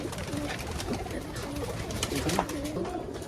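Colourful fancy pigeons coo in a low, wavering chorus, several birds overlapping in repeated soft calls, fairly close, with faint background activity and no clear talk.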